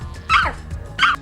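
A person imitates a dog on command, giving two short, loud yipping barks close up with a brief pause between.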